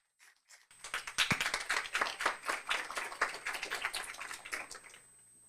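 Audience applause at a conference panel on education investment in Latin America and the Caribbean, a burst of many hands clapping that swells quickly, holds steady for several seconds, then stops abruptly.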